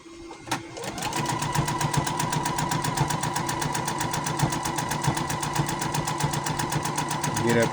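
A sewing machine double-stitches the side seam of a gnome shirt, starting up after a brief bump and then running at a fast, steady, close rhythmic chatter to the end.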